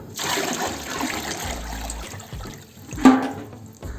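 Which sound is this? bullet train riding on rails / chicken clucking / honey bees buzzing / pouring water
pouring water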